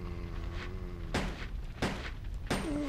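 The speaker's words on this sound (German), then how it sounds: "Wir schießen euch mal ab." Three loud, evenly spaced gunshots in the video game Resident Evil Code: Veronica X, each a sharp close blast with a short decay, over a steady hum of game ambience.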